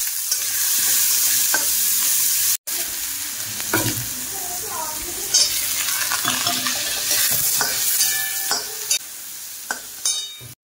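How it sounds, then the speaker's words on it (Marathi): Sprouted moth beans, chickpeas and vegetables are sautéed in oil, a loud, close sizzle broken by repeated spoon scrapes and stirring, with occasional metallic clinks against the pan. "आता मी सगळं सामान बघा परतून घेतलंय तेलामध्ये, मटकी, हरभरा सगळं ह्यात टाकलं"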